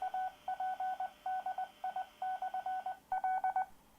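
DTMF tones come through an AllStar amateur radio net link, a quick run of about a dozen clean beeping tone bursts in an uneven rhythm, each short and moderately loud, with a slightly different final group.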